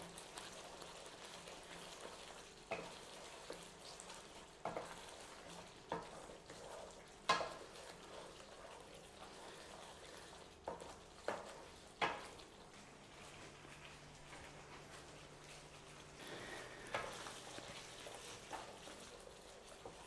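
Sliced garlic frying in a pan for a garlic chili chicken curry: a faint, steady low sizzle dotted with soft clicks and stirring taps, quiet and close with no talk.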